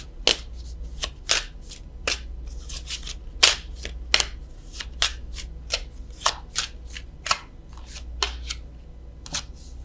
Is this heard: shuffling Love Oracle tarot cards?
yes